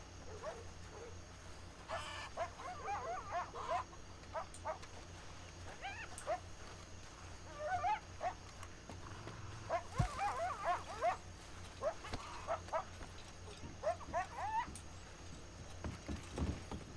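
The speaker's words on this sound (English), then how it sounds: "This chicken sounds like a dog" A chicken in a video game gives out dog-like barks, yips and whimpers in short, spaced bursts repeating over a steady background hum, fairly close and clear.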